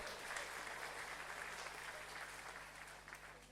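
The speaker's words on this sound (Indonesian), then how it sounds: "Tepuk tangan untuk Martiman." Sustained applause from an audience at a university graduation ceremony, steady and dense throughout, fading slightly toward the end.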